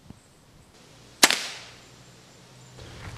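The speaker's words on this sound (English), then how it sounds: "So we'll shoot the 10 millimeter ball over the crony now." A Shoottech Raptor compound slingshot fires a 10 mm steel ball past a chronograph, giving one sharp, loud snap with a short decaying tail amid otherwise quiet surroundings.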